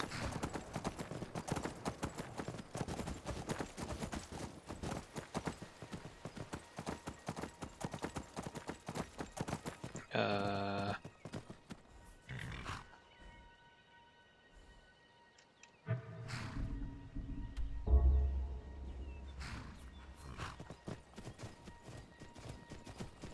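Horse hooves clip-clop steadily on the ground in the video game Skyrim, a rapid rhythmic run of hoofbeats, then a pause and a whinny, with someone talking briefly.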